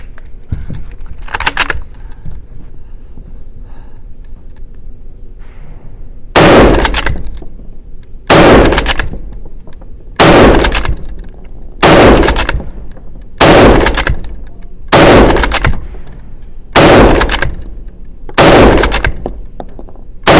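A bolt-action rifle fires ten rapid rounds from the prone position on an outdoor range with 25-metre targets: ten loud, sharp cracks in a steady rhythm roughly every one and a half to two seconds, each with a short ringing tail.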